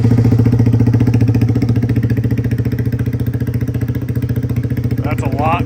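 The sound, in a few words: Honda Grom motorcycle idling with new Vance and Hines exhaust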